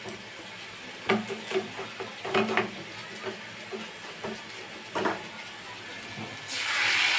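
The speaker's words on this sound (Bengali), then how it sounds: "যেহেতু সর্ষে বাটা খুব বেশি কষাতে লাগে না, জাস্ট একটু নাড়াচাড়া করে নেব" Mustard paste thinned with water is stirred in a pan for a barramundi dish, with soft intermittent scraping and light bubbling, and a louder hiss of steam rising near the end.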